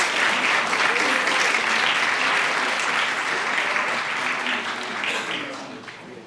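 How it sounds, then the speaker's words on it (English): A room full of people applauding the Knights at a school district board of trustees meeting, a strong, sustained round of clapping that gradually fades toward the end. "Let's give another round of applause for the Knights"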